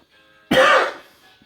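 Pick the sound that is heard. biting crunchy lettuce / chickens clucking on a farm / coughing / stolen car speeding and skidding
coughing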